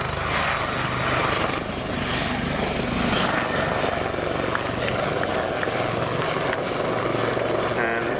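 Former Army Westland Lynx AH7 helicopter at the Cosford 2022 air show, a continuous loud rotor and engine roar that holds steady throughout, with a commentator talking over it.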